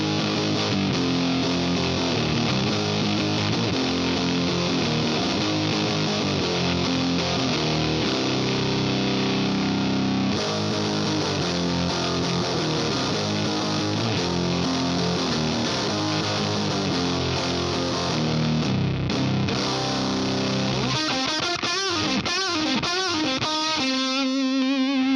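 An electric guitar plays through a Fractal FM3 amp modeler with the wicker switch engaged. It gives a dense, distorted, continuous tone with sustained chords and lead lines throughout, ending on a few ringing, decaying notes.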